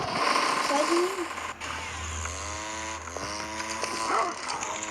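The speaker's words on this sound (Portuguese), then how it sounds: "Cortador de grama" A buzzing lawn mower engine drones steadily amid zombie game sounds, with a person talking over it throughout.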